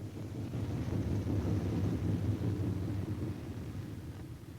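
A World War II B-17 Flying Fortress bomber coming in to land with its left inboard engine dead, a faint distant low rumbling drone that swells slightly and then fades, with no talk.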